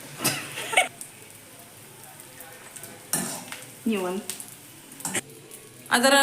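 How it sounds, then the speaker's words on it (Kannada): Edible gum roasts in ghee in a pan over a low flame for North Karnataka antina unde, with intermittent scraping stir strokes and faint crackle. A voice briefly speaks between them. "ಇದನ್ನು ಹಾಕಿ ಹುರಿಯಬೇಕಾದರೆ ಲೋ ಫ್ಲೇಮಲ್ಲೇ ಇರಬೇಕು"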